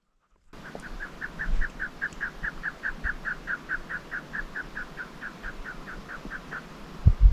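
Chukar partridges call from rocky hillside terrain in a rapid, even series of roughly two dozen clucking notes, moderately distant over faint outdoor wind noise.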